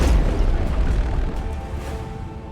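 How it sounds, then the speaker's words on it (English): A heavy macro cannon impact in the Warhammer 40k: Rogue Trader space battle, a deep booming blast at the start that rolls on as a low rumble, loud and close, with no talk over it. "Another knock on the macro cannon"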